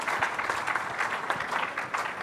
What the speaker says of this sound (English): A round of applause for them, and to Admiral Tripathi.